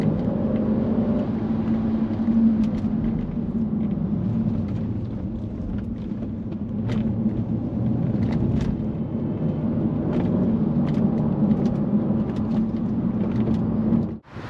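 Mercedes-Benz S55 AMG W220 driving toward a car park: a steady low engine and road rumble carries on without a break, with faint clicks and ticks from the cabin, before cutting off sharply at the end.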